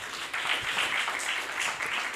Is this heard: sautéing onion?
no